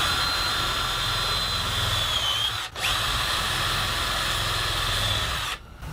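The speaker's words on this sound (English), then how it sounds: "And I'll also mark out and pre-drill some mounting holes." A power drill whines loudly and continuously while pre-drilling mounting holes for a magnetic bottle opener, briefly stopping once mid-way before spinning up again, then cutting off at the end.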